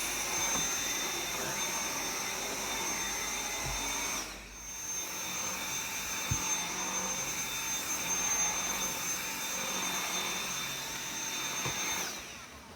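A Dyson V7 Absolute cordless vacuum runs on high power, a loud, steady whining motor drone with a high-pitched tone, briefly dipping around the middle before resuming.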